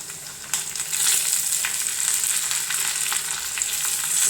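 Dried red chillies and curry leaves crackle and sizzle in hot oil as a tempering for bitter gourd theeyal, a steady loud frying hiss with sharp pops scattered throughout and no voices.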